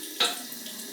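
Water from a bathroom tap after a shave runs with a brief splashing rush that starts sharply, then settles into a soft, steady hiss for under a second.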